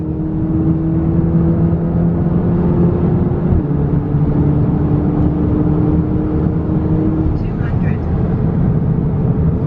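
A tuned Volkswagen Golf R making over 400 bhp accelerates hard, heard from inside as a loud, steady engine drone whose pitch drops at each gear change, with people talking over it.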